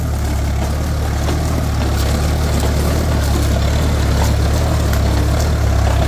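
Ford tractor engine held below a thousand rpm in second gear while ploughing a field, a loud, steady low diesel drone that runs unbroken throughout.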